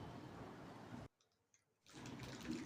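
Mustard seeds splutter in hot oil in a pan, a soft dense crackle that drops out briefly and then resumes.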